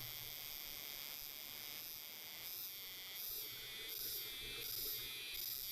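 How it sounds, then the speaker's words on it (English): Cicadas in a Wii U video game chirp in a dense, continuous high buzz with gently pulsing intensity, steady and alone without speech. "Now that's definitely some Wii U kind of sounding cicadas."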